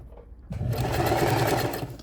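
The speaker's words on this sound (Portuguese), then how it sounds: "Olha lá, posicionei e costurei." A sewing machine starts up and runs in a quick, steady whirring stitch, sewing bias binding trim along fabric, close and moderately loud after a brief quiet moment.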